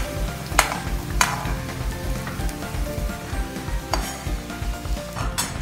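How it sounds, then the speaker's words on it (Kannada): Garlic sizzles steadily in a pan while a utensil stirs and scrapes it, with sharp metallic clinks at intervals and no talking. "ಸ್ವಲ್ಪ ಹಸಿ ವಾಸನೆ ಹೋಗೋವರೆಗೂ ಬೆಳ್ಳುಳ್ಳಿ ಹುರ್ಕೋಬೇಕು"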